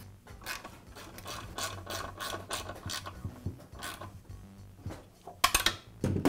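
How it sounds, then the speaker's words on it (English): Screws are tightened on the guide fence of a Makita miter saw, giving a close, quiet run of irregular ratcheting clicks and metallic rubbing that builds to a few sharper scraping bursts near the end. "So now I'll tighten the other 2 screws."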